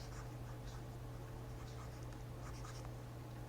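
Pen writing an answer on paper, soft scratchy strokes in short bursts over a steady low electrical hum, close and quiet, with no speech.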